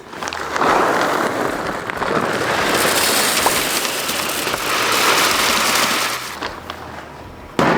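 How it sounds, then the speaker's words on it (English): Royal Oak charcoal pellets pour into a smoker hopper in a loud, continuous rattling rush that runs for several seconds before cutting off abruptly. "let's top off our Royal Oak Charcoal Pellets here"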